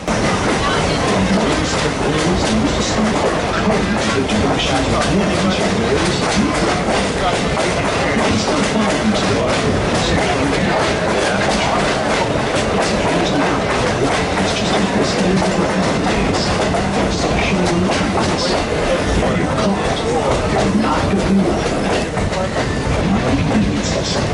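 Steam locomotive N&W 611 hauls a train past on the Strasburg Railroad in Pennsylvania, a steady loud rumble with rhythmic wheel clatter that continues without a break.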